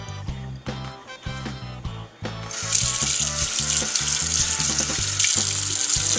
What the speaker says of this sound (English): get our colander, and we're just going to drain off the water,